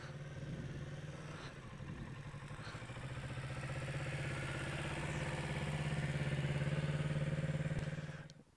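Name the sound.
motorcycle engine during slow-speed riding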